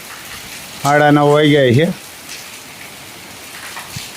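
Heavy rain falling outdoors makes a steady broadband hiss throughout, with a person speaking briefly over it near the start.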